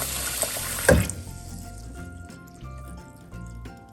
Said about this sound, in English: then you will wash the rice a few times with some water